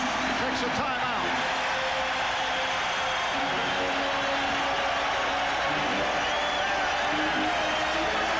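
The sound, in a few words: Madison Square Garden capacity crowd reacting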